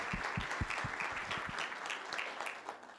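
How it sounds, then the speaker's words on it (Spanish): A panel audience at a transparency and privacy forum gives a round of applause, a fairly quiet, somewhat distant patter of clapping with a few distinct close hand claps early on. "para quien pido un fuerte aplauso."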